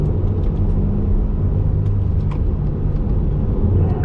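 A Corvette lapping a race track during hot laps, heard from inside the car, sends out a steady, loud, low engine drone with a constant rumble and no pause, while no one talks over it.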